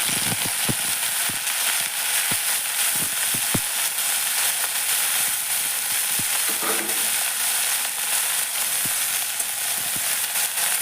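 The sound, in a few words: water lily stems frying in a pan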